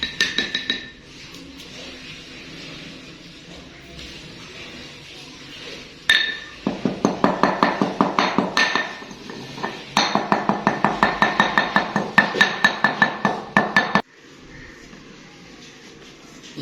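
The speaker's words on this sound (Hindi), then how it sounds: "अभी मैं इसको मिक्स कर रहा हूँ" Ground herbal powder containing fennel is stirred in a container. Fast, rhythmic clinking and scraping strokes come close and loud in two long bursts, with quieter handling sounds before and after.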